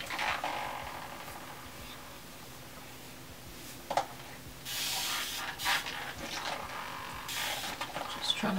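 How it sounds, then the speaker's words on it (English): Several quick hissing bursts of a spray bottle misting water onto kinky curly hair, one after another, with quiet background in between. "Spray bottle."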